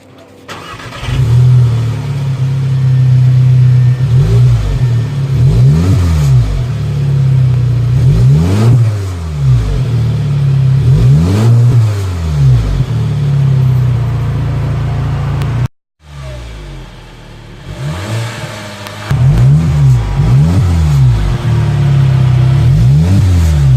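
A 2016 Audi A3 with a muffler-delete exhaust drives along, its loud raspy engine drone rising and falling through repeated rev sweeps as it accelerates and shifts, heard close-up with one brief cut near the middle.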